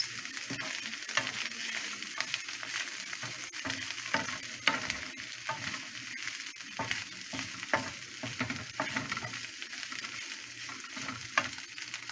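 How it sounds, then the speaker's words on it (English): Cooked egg and vegetables for one-pan fried rice are stirred in a hot frying pan, a steady close sizzle with repeated scraping strokes of the spatula and no speech. "So the egg is fully cooked. Now we can blend it with the vegetables."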